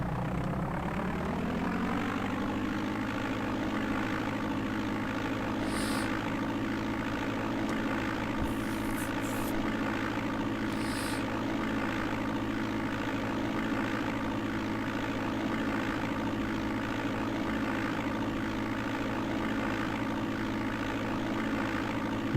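A propeller airplane engine in the DOS game Flight Simulator 5.1, flying from Gogebic-Iron County airport, drones steadily and loudly, swelling in the first couple of seconds and then holding an even, unbroken hum with no talk.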